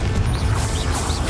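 Confringo spell blast in Hogwarts Legacy, a loud dense crash of fiery impact layered over game music and effects, filling the short moment at close range without speech.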